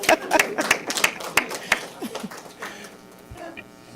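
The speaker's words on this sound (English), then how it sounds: "So let's give the baby a round of applause" A small group claps at a council meeting for the youngest police officer after an oath, several sharp, distinct claps in the first two seconds that thin out and fade, with faint chuckles and murmurs afterward.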